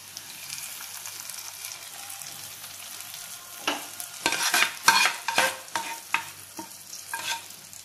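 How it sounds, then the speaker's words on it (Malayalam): Fried onions tipped into a Kerala fish curry with coconut milk and stirred in a pan, a soft simmer giving way to several close, scraping stirs and splashy clatters in the second half, no voices. "ഇനിയിപ്പോ നമുക്ക് ഉള്ളി മൂപ്പിച്ചത് ഇതിലേക്ക് ഇട്ട് കൊടുക്കാം."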